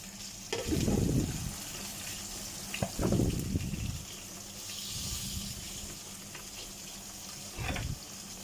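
Snakehead fish (dalag) fries in a pan, breaking into bursts of loud sizzling and spattering between stretches of quieter steady crackle.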